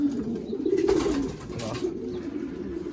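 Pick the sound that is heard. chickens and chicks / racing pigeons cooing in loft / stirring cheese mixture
racing pigeons cooing in loft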